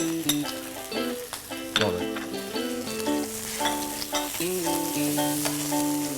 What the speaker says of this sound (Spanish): añadimos la salsita de tomate ya a nuestro ratatouille